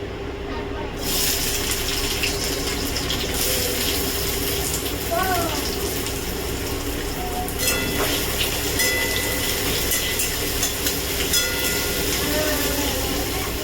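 Onions sizzling in hot mustard oil in a kadai over a high gas flame, a steady, dense crackling hiss that runs close and loud throughout with faint clinks.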